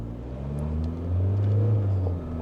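Mahindra Thar Roxx diesel engine pulling hard under full acceleration from a standstill, a steady low droning rumble that swells and rises slightly in the middle, heard from inside the cabin with no talking.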